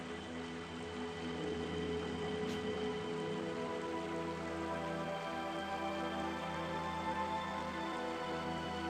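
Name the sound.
rain in the video game Radiant Historia: Perfect Chronology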